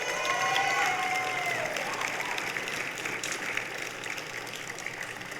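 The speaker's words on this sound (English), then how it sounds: "Give her one more round of applause." Sustained audience applause fills a hall during an athletics Hall of Fame induction ceremony, steady and dense for several seconds, with faint voices mixed in.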